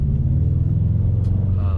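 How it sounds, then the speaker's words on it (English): A Subaru WRX STI with a Stage 1+ tune is driven along, its engine intake giving a loud, steady low rumble close up throughout, with a brief faint higher sound near the end. "Already the intake noise is very noticeable."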